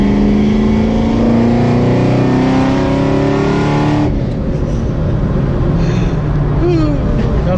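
A 700 rear-wheel-horsepower Camaro ZL1 engine revs loudly with rising pitch to 4,400 RPM under acceleration for about four seconds, then drops to a lower rumbling idle with road noise.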